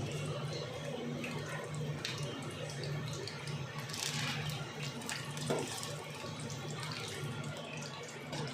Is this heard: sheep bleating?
no